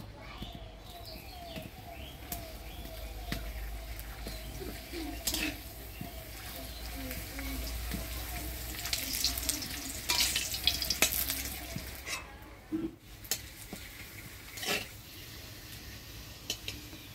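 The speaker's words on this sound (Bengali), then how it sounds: "তো পাপড়টা প্রথমে ভাজে নিব।" Papad being fried in hot oil for a Bengali vegetarian curry, a steady sizzle and crackle with occasional stirring knocks, birds chirping faintly in the background.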